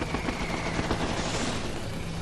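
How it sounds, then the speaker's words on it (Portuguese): MiG jet fighters fire their cannons in a Korean War air battle, heard as a dense, continuous rattle of rapid gunfire with a rumbling wash underneath. "6 MiGs vieram por cima deles disparando seus canhões."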